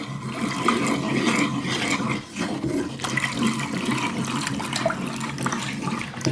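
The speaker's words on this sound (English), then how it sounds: "once the first bit of cacao is mixed in, you can just keep adding the hot water" Hot water pours steadily into a cacao drink, a loud, close, continuous rushing flow that dips briefly partway through and then carries on, with no voices.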